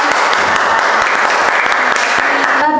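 A classroom of students claps together in a dense, steady burst of applause for a few seconds, loud and close, with no speech over it.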